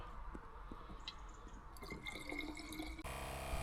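Water poured into a spray gun bottle already half filled with DPF cleaner, a steady trickling fill with faint sloshing and drips, close by with no talking.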